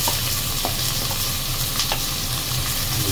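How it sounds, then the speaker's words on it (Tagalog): Garlic, onion and ginger sizzle steadily as they are stirred in a hot frying pan, with a continuous loud fry hiss and occasional scraping clicks from the spatula. "pagka naging golden brown na yung bawang natin, ihalo natin yung ating sibuyas at luya"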